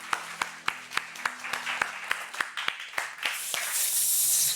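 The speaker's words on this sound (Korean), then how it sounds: "우리 하나님께 영광의 박수를 올려드리겠습니다." A church congregation claps: separate sharp claps land in a steady rhythm, then swell into a dense, continuous wash of applause.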